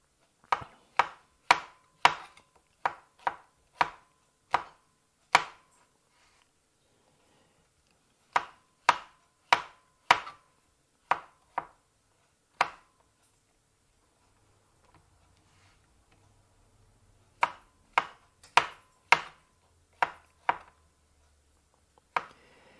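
Vegetables are chopped for mise en place on a board in crisp, evenly spaced knife strikes that come in three bursts of about a dozen each, with quiet gaps between them.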